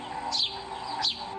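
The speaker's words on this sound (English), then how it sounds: "These birds were caught on trail cam while chirping and enjoying a sand bath in the middle of the woods." Wild birds taking a sand bath in the woods give two short, bright chirps about half a second apart, close by, over a faint steady background hum.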